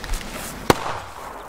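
A single sharp firework explosion from a pyrotechnics show in the Czech Republic bursts once, loud and fairly close, then fades into a quiet outdoor background.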